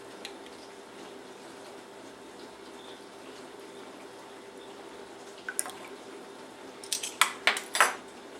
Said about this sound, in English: we're whisking together our buttermilk, our eggs, our vanilla extract, and our almond extract.